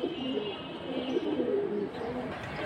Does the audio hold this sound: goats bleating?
no